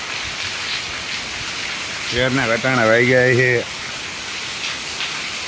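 Steady heavy nighttime rain hisses over farm fields, an even, continuous wash that a voice briefly speaks over midway before the downpour carries on alone.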